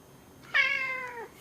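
A cat gives a single clear, drawn-out meow close by, rising and then fading over about a second against quiet room noise.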